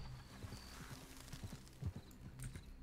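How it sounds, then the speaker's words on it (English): Horse in Red Dead Redemption 2 roleplay, quiet clip-clopping hooves in an irregular walking rhythm with a faint whinny mixed in. "Hold on, it's a horse."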